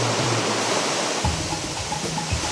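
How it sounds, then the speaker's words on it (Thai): Erawan waterfall's third tier in Kanchanaburi, Thailand, roars as a steady, dense wash of falling water, loud and continuous, with a deeper rumble joining midway. "น้ำตกเอราวัณชั้นที่3ผาน้ำตกชั้นนี้เขามีชื่อว่าผาน้ำตก"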